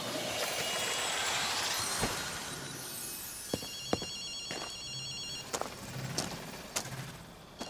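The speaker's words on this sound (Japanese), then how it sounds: "あの電話が鳴っているみたいだ。" An old-style telephone rings repeatedly in the video game Ghostwire: Tokyo, its bell bursts fairly loud and alone against a quiet ambient background with occasional clicks.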